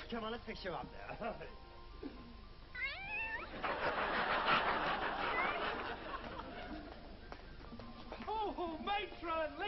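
A cat meows several times amid overlapping voices and background chatter, the cries rising and falling in pitch.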